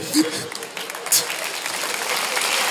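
A live audience at a French comedy podcast taping breaks into applause, scattered claps at first that swell into a steady, fairly close burst of clapping.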